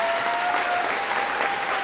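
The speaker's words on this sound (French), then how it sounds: "Gabrielle King, que j'aimerais qu'on applaudisse très fort" An audience at a 2019 fashion show seminar at Séminaire Saint-François claps loudly for Gabrielle King, a continuous, even wash of applause.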